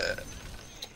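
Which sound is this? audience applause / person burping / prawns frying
person burping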